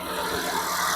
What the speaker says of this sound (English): Now that's the sound of the engine